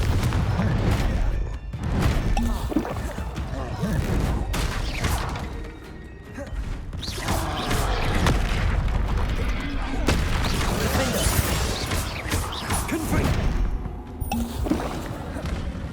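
Spell combat in Hogwarts Legacy, with repeated blasting explosions, booming impacts and crackling magic effects in a dense, busy stream, while a voice shouts spell names over the action.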